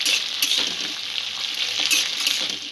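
Okra fries in oil over medium-low heat while being stirred, a close bright sizzle with scraping strokes and small bursts, continuous and without speech.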